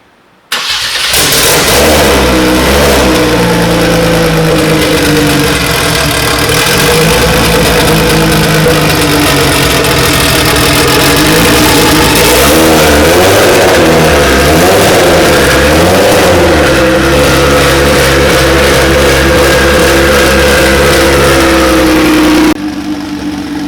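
A Kia V6 twin-turbo engine swapped into a DeLorean starts and runs loud and close, revving up and down several times over a steady idle before it shuts off.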